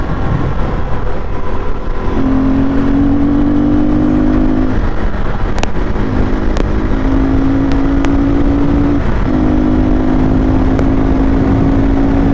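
A KTM RC390 motorcycle rides along a road in monsoon rain, its engine droning and shifting pitch in steady sustained stretches separated by brief gear changes, loud and close with wind rush.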